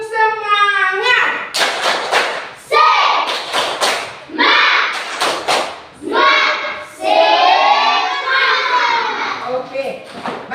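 Children chant a rhythmic clapping routine in an Indonesian classroom, with sharp bursts of hand claps and thumps between loud, lively bursts of young voices.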